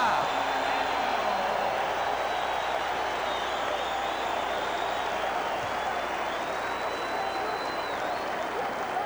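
A roaring basketball arena crowd at a 1991-92 Bulls vs Nets game in New Jersey cheers during a Chicago timeout, a dense, sustained wash of noise that stays loud and even from start to finish.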